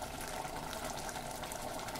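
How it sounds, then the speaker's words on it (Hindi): Water pours steadily into a pot of kidney bean curry being thinned into a loose gravy, a continuous close, moderately loud splashing gush with no talk. "मेरे को थोड़ा सा पानी की ज़रूरत पड़ी, थोड़ा थोड़ा पानी डाली इसमें।"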